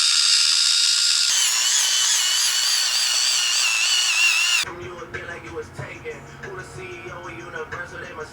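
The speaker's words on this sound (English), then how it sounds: "So I got a foot polisher. This is pumice," An electric pumice foot polisher whirs with a steady, loud, high-pitched buzzing whine for about four and a half seconds, then cuts out as a voice takes over.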